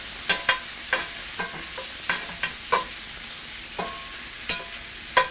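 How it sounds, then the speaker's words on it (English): A tablespoon of butter sizzling with pork juices in a pan, a soft steady hiss punctuated by regular spoon scrapes and taps as the fat is stirred and basted. "I'm going to add about a tablespoon of butter to that pan. Let it mix in there with the juices."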